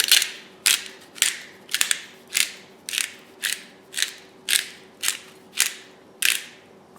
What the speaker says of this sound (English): Fresh cracked pepper.